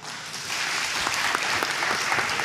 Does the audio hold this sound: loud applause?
yes